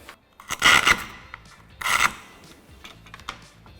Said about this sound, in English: To finish off the cut across here, I'm going to use our scribe.